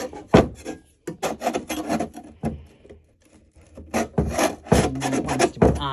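Metal scraper rasping old finish off a wooden secretary desk, a run of loud, close, rough strokes with short pauses between bursts, no talking.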